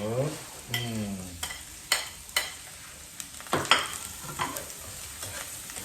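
Onion and garlic sauté in a hot pan for a monggo dish, with a loud sizzle as they hit the oil, then repeated scraping stirs and clinks of the spatula against the pan.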